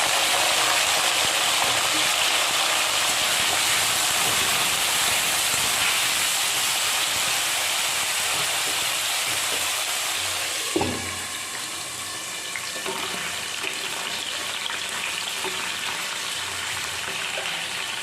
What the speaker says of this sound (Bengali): সরিষার তেলটা গরম হয়ে গেছে এর মধ্যে বিনস আর গাজরটা ভেজে দিচ্ছি